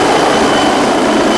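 A helicopter roars close by, a loud, steady and unbroken engine and rotor wash filling the short moment with no other sounds over it.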